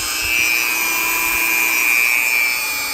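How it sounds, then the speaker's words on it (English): A Savage 93R17 rifle bolt is pressed against a spinning polishing wheel loaded with compound, giving a steady, close, loud whirring rub that holds evenly throughout, with no voices. "Try to get some polishing compound on this wheel"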